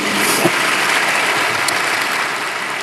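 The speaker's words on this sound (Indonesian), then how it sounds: "Berikan tepuk tangan kita untuk Tuhan kita." A church congregation gives loud, dense applause during a Sunday service, a continuous roar of many hands clapping at once that holds steady and eases only slightly at the close.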